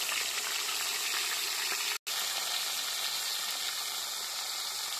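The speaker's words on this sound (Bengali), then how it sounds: "তেলের মধ্যে মাছ ছেড়ে দিচ্ছি।" Bata fish fry in hot oil in a kadai, giving a bright, continuous hissing sizzle with a brief break partway through.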